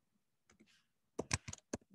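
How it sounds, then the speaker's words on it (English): A few quick, faint keystrokes on a computer keyboard click in a short irregular burst, close and isolated with no talking. "I'm going to type in those commands"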